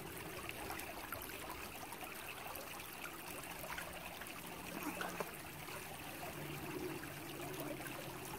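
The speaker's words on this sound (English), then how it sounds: "until the water stops dripping out." Water trickles and drips from a LifeStraw personal water filter after air is blown back through it, a faint, steady wet trickle running throughout with no talking.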